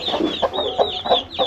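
Rapid, repeated high-pitched chirps from Aseel, desi and Kadaknath chicks, close and continuous, in a quick regular rhythm.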